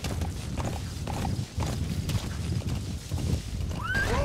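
Horse hooves gallop in a steady rhythm in Metal Gear Solid V, close and fairly loud over a dense outdoor game soundscape, with a whinny-like call near the end.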